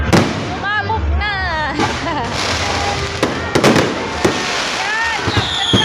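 Christmas fireworks bursting outdoors, with loud booms and crackling pops over several seconds while people call out and whoop excitedly throughout.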